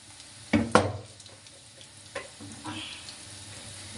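Chillies coated in batter for mirchi bhaji hitting hot oil, a couple of sharp sizzling bursts settling into a soft, steady frying crackle, close by in a home kitchen.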